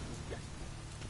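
Steady rain in The Witcher 3 video game hisses across a surface, a dense wash of drops with no breaks and no talking.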